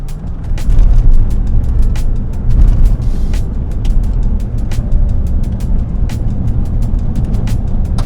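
A truck on Eibach coilovers rolls over a rough, beaten dirt road, with a steady loud low rumble broken by frequent sharp knocks and rattles from the suspension and cabin.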